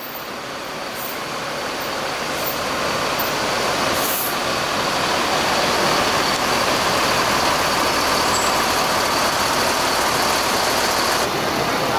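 PO Haryanto buses idle in a congested Kudus bus terminal jammed up to the entrance, giving a steady, dense engine rumble and traffic wash that swells slightly and holds, with no talk.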